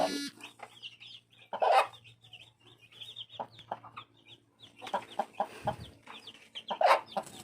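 Black hens cluck on and off, several short calls and murmurs, with a few louder squawks, fairly close and without any talking.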